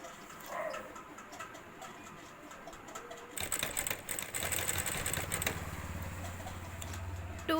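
Industrial sewing machine stitching the side seams of a grocery bag, running in a steady continuous mechanical whir after a quieter start, close and fairly loud, with no talking.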